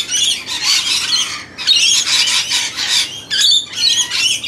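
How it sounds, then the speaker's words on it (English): Wild suburban birds of four species feeding together in Brisbane, Australia, giving a loud, raspy chorus of squawks and chatter in three long overlapping waves with brief pauses between, close by and without talk. "So these birds all feed together."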